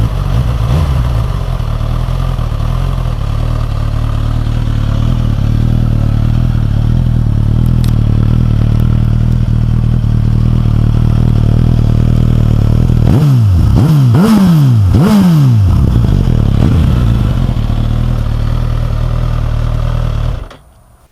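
A 2015 Suzuki GSX-S1000 motorcycle engine with stock exhaust idles loudly and steadily, then revs sharply several times in quick succession before cutting off abruptly.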